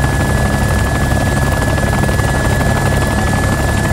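A helicopter in the survival video game DayZ roars loudly and steadily with a dense, unbroken rotor and engine drone that holds for the whole stretch, with no talk.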